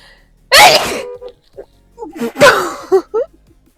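Two loud, sharp sneezes burst out close by, a short pause between them, each followed by quieter breathy sounds.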